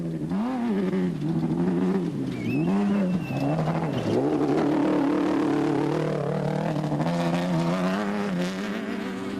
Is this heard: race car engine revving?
yes